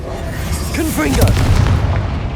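Confringo blasting spell from Hogwarts Legacy, a loud booming explosion with a rising magical whoosh and a deep rumble that lingers and tails off.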